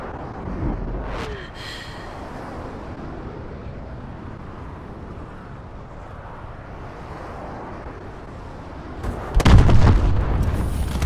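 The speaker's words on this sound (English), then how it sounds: "Friendly missile strikes incoming." Missile strikes in the Call of Duty: Advanced Warfare video game: a steady rumbling battle bed with a sharp blast early on and a loud, heavy explosive impact near the end.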